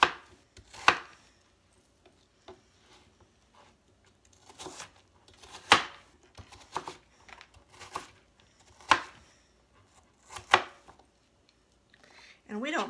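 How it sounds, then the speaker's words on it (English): Vegetables for stuffed peppers being chopped with a knife on a board, irregular crisp cuts and taps spread over several seconds, close and clear, with a brief voice-like sound near the end. "So I'm just going to chop this up."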